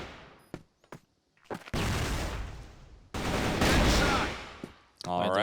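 Gunfire in a Counter-Strike match comes as a few short shots and then two long, loud sprays of automatic fire with brief gaps between them, and a voice at the very end.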